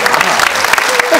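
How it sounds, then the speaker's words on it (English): Loud applause from a studio audience on a talk show, a close, dense burst of clapping with sharp individual hand claps, continuing at full strength. "Let's give them another round of applause."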